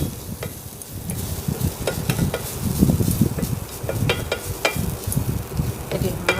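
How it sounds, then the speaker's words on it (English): Ground masala paste sautéing in a hot pan, a steady close sizzle with scattered crackles and the scrape of a spoon stirring throughout. "I'm going to saute this lightly."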